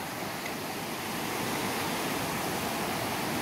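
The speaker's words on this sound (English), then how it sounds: "that's the beginning of the world's shortest river" Cold spring-fed water flowing at the head of the short river at Giant Springs near Great Falls, Montana, a dense, even rushing wash that holds steady and slightly swells, with no voices.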